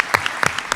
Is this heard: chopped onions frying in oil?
no